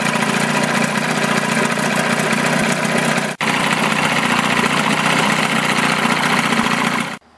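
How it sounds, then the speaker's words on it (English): A small outboard motor runs steadily in a water barrel, a loud, continuous buzzing drone with one brief dropout midway before it cuts off near the end. "I'll show you a clip of the motor when it's actually running in a barrel"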